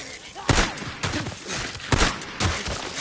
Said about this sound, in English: Skizzo, stop shooting!